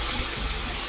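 Boiling water poured into hot brown butter and brown sugar while whisking, giving a short, loud, steady hiss and gush of liquid with a rough sputtering texture throughout.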